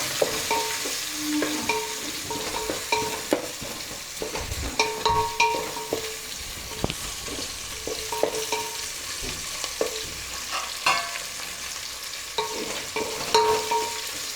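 Tempering for sambar sizzling in a pan while a spoon stirs and scrapes through it, with repeated close clinks and scrapes over a continuous frying hiss.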